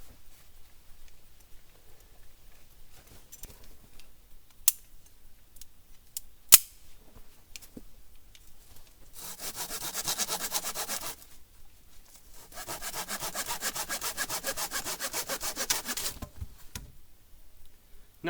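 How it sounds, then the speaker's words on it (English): Hand saw cutting through a length of wood for a stick hut shelter at a campsite, two bursts of rhythmic back-and-forth rasping strokes, close and clear, separated by quiet pauses and a few knocks. "So we'll get that cut down."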